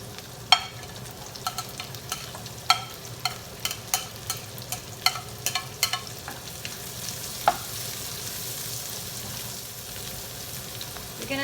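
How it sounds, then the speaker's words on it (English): Garlic and onion sautéing in a pan for Kapampangan-style pansit luglug, a low steady sizzle punctuated by a string of crisp utensil clicks and taps against the pan. "Now we're gonna saute the garlic. We're gonna put the onion."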